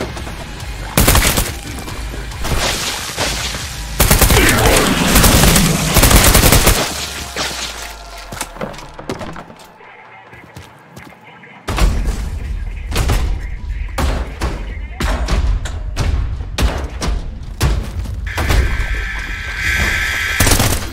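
Gunfire from shooting an enemy in the shooter game Trepang2, with sharp loud shots and bursts spread across the stretch alongside mechanical game effects and someone talking.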